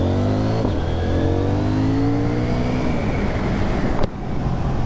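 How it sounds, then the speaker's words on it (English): A CF Moto 800NK motorcycle engine revs steadily, its pitch climbing slowly with a deep exhaust tone, then a sharp pop cuts in near the end. "You know, popples and burbles. There's a nice tone from that exhaust."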